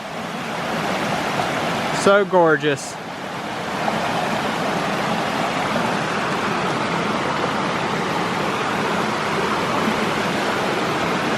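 Creek water near Cheaha High Falls in Alabama rushes in a steady, broad wash throughout, with someone briefly speaking over it early on.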